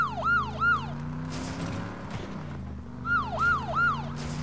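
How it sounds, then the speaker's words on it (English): A vehicle siren wailing in repeated rising-and-falling sweeps, two bursts separated by a stretch of engine and road rumble, fairly close and loud, with no talk. "Yes, I'm gonna do the siren."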